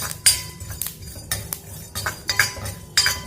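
A spoon clinks and scrapes against a kadai while cumin, black pepper and sesame seeds are dry roasted, a series of sharp metallic taps and stirring scrapes in irregular rhythm, close and clear with no talk.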